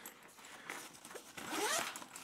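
A zipper on a K&F Concept multifunctional camera backpack is pulled close up, a short scratchy zip that rises in the final second with no talking.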